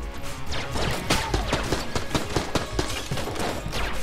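Enemy gunfire from shotgunners and machine gunners in the Enter the Gungeon video game, a dense rapid volley of sharp synthetic shots and impacts rattling on without pause.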